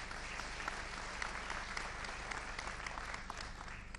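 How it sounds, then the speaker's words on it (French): Audience applause after a talk at a national conference on photovoltaic self-consumption, steady even clapping from a crowded room, moderately distant and without voices. "On peut vous applaudir."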